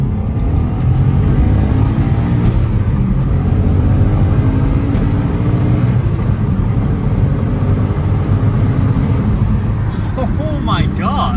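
A Subaru 22B accelerates hard, heard from inside the car as a loud, steady engine roar that holds for the whole stretch with no letup.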